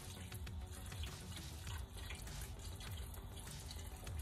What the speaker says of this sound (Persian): حالا کم آب جوش اضافه میکنیم.